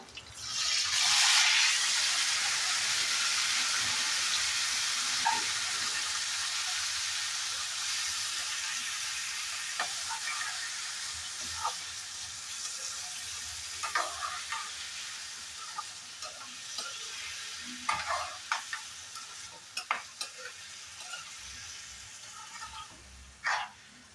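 Vegetables fry in hot oil with a bay leaf for khichdi. A loud burst of sizzling as they go in settles into a steady fry, broken by frequent scraping stir strokes.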